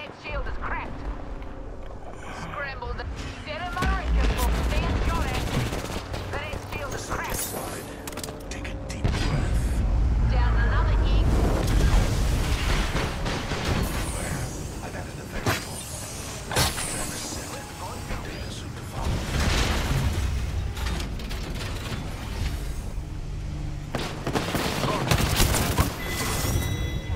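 Shooter video game combat with dense rapid gunfire and heavy booming impacts, loud and continuous, with voices talking over the shooting.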